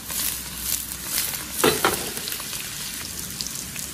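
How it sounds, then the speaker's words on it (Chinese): Drained spring bamboo shoots pan-fry over medium-low heat, giving a steady close sizzle that swells briefly as the pieces are stirred. "开中小火，给它多煎一会儿"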